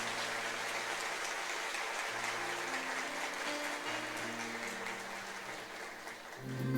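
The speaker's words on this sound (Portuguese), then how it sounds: "Uma salva de palmas ao Major Edson e a Dona Maria Luísa" Church congregation applauding during a Catholic ceremony of acolyte and lector installation, a steady dense patter of many hands filling the room, sustained and even with faint organ-like tones beneath.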